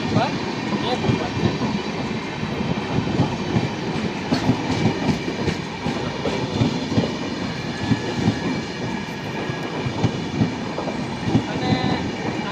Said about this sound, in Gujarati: અત્યારે જો આ ઇન્દોરવાળી ગાડી એન્ટર થાય છે પ્લેટફોર્મ નંબર 1 ઉપર